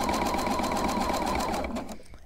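A sewing machine stitches scrap fabric onto coiled rope for a trivet, its needle running steadily and close for about two seconds before slowing and stopping.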